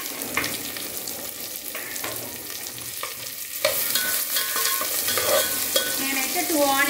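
Onions hit a hot pan and fry with a bright, close sizzle, broken by scraping stir strokes, and the sizzle grows louder and busier partway through.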